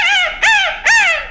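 A voice imitates the call of a grey junglefowl, giving three loud, close, strained crowing bursts in quick succession, each rising and then trailing off.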